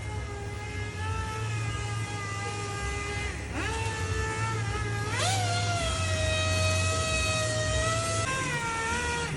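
A handheld power tool rounds off the edges of a Honda NSX engine cover, giving a loud, steady, high whine that dips and recovers in pitch several times as the tool bites into the workpiece.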